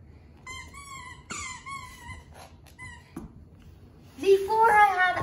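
A nine-week-old standard poodle puppy plays with her toys, giving short, high squeaky whines and squeals in separate bursts, then a louder, busier flurry of squeaks near the end.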